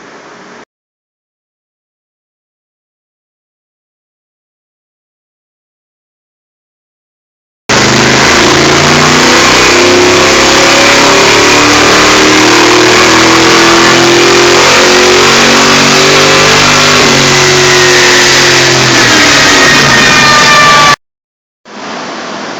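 A 1968 Nova engine on a dyno run roars loud and steady at high revs for about thirteen seconds, climbing in pitch, with silence before and a short trailing burst after.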